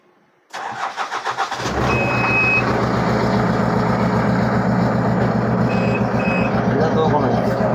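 JCB backhoe loader diesel engine starting with a short sputter, then running loud and steady while the rear bucket is lifted, with a periodic beeping alarm audible over the engine.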